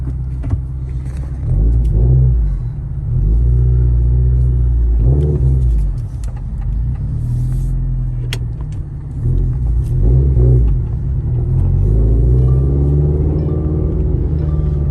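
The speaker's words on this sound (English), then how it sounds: "So I just had to go and take it for a test drive." Car engine rumbling and revving during a test drive with the heater on, fitted with a South Bend Stage 3 Daily clutch; steady low drone with repeated rises in revs as it accelerates, close and continuous with no talking.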